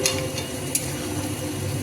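Pointed gourd stirred into a simmering potato curry in a pot, with a steady low bubbling and scraping stir sounds, a couple of light utensil taps against the pot, no voices.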